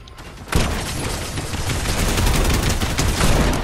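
Dense video-game gunfire erupts after a brief pause, a loud, sustained rapid volley of shots with overlapping bursts continuing to the end.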